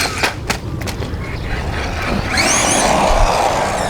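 A small WLtoys 20409 1/20 scale 4x4 RC truck pops over curbs outdoors, with sharp knocks and rattles up front, then a steady whine of its motor and rolling wheels, close and fairly loud.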